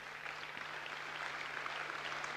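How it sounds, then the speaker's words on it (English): Applause at a country music song contest awards event, a soft, distant wash of clapping that stays even and faint throughout, with a low steady hum underneath. "Give him a round of applause."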